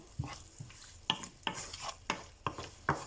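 Onions and turmeric fry in a pan for aloo bhaji, with a soft sizzle under repeated close scraping stir strokes, about eight in a slow, uneven rhythm.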